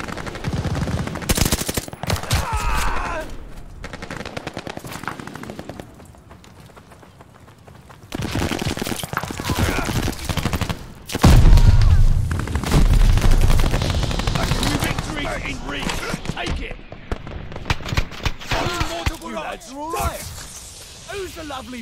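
Mortar shells land and guns fire nonstop in a Call of Duty: Vanguard battle on hardened difficulty, loud dense bursts of gunfire with heavy booming impacts and a short lull, while players talk over the din.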